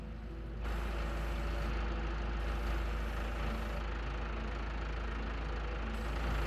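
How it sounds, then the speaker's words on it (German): A tractor engine in Farming Simulator 22 starts up and then idles steadily, a loud, even low drone that runs unbroken and holds without speech. "Motor an."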